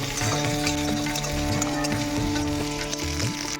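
Salted onions sizzle and crackle loudly in a hot pan, a continuous close frying hiss with occasional stirring scrapes.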